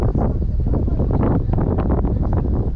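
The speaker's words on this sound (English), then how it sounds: "this wind would have calmed down" Steady wind blows hard across the microphone beside a limestone trout stream in central Pennsylvania, a continuous low rumbling roar with gusty fluctuations and no clear pauses.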